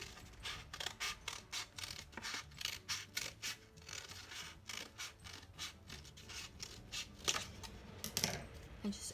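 Scissors snip repeatedly through a folded paper plate, close up, in a steady run of short crisp cuts with brief pauses and no talking.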